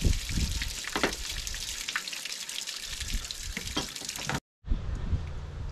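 Water sprays and splashes inside a metal water heater tank during rinsing, a noisy hissing patter with irregular bursts, briefly cut off near the end before resuming.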